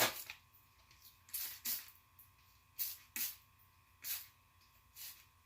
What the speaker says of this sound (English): I'm gonna spray it down with some water.